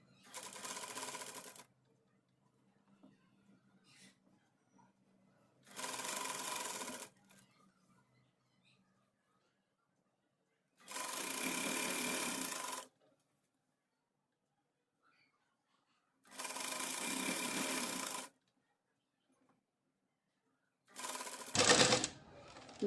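Sewing machine stitching the sleeves of a suit, running in five steady bursts of fast rhythmic needle clatter, each a couple of seconds long, separated by pauses of near silence.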